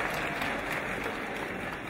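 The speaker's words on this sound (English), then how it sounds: "A round of applause." Audience applause at a fundraising book launch in Ghana, a short, steady rush of crowd clapping at moderate volume with no distinct voices.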